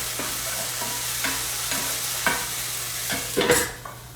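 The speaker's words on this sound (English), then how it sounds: "Because they're frozen, when the heat catches them, it gets a little bit, with the olive oil, it gets a little splattery." Frozen cranberries spatter and crackle in hot olive oil in a pan, a steady sizzle broken by sharp pops and scattered spits, the loudest burst near the end.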